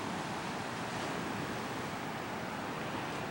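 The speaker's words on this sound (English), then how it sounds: "You can hear the surf." Steady ocean surf heard from an overlook above the shore in Puerto Rico, a continuous broad wash of breaking waves with no distinct crests, moderately faint and uninterrupted, with no voices.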